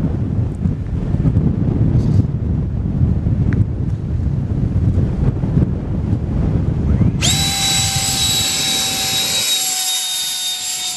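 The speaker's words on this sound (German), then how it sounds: "Wir haben Starkwind, aber parallel zur Landebahn" Strong wind sweeps across a model airfield, a loud, constant rushing buffet on the microphone. Near the end a high, sustained whine from a small electric ducted-fan model jet rises over it.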